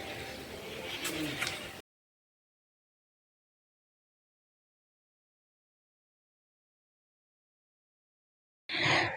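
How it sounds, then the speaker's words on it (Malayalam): Birds chirping and cooing around a temple, a brief, moderately loud burst of calls at the start, then near silence, with a short return of calls at the very end. "നിങ്ങൾ ശ്രദ്ധിക്കുന്നുണ്ടോ ഇവിടെ ഒത്തിരി കിളികളുണ്ട് കിളികളുടെ സൗണ്ടിൻ്റെ ഒരു ബഹളം തന്നെയാണ്"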